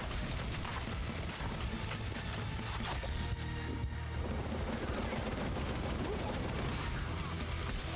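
Boss enemy firing a gun in Necromunda Hired Gun: dense continuous gunfire and rumbling blasts fill the whole stretch at a steady loud level, with a voice talking faintly beneath the chaos.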